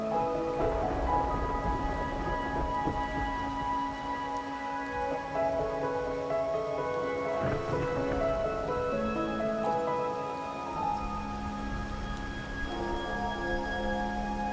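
Steady rain falls in Wuthering Waves, a continuous even patter spread across the whole span, with a soft melodic game music bed layered over it and no speech.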